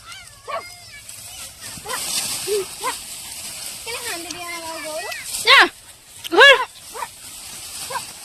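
A dog yips and barks in scattered bursts at a cow in an open field, ending with two loud sharp barks close by, while people talk in the background.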